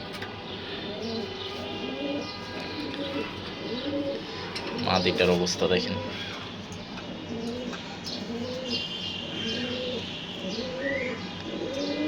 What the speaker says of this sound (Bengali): এখন এক রুমেই কবুতর আছে এখানে সব বাচ্চা কবুতর